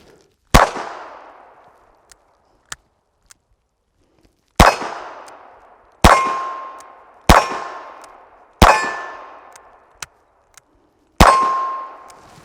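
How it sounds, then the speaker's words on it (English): Pistol shots, from AB-10 and RG-14 handguns, strike a steel target at 10 yards. About seven sharp metallic clangs ring out at irregular intervals, each with a ringing decay, and fainter pops fall between them. "got 6 more rounds and I got a steel target down there"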